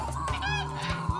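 Geese honk in the creature game Spore, a few loud nasal honks packed close together and heard nearby with no other sound.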